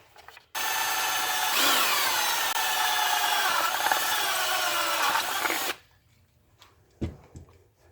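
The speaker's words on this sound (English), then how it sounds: "drilling a hole in your tractor parts" A power drill bores a hole in a Kubota tractor part. A loud, steady whine runs for about five seconds and then cuts off into quiet, followed by a brief knock.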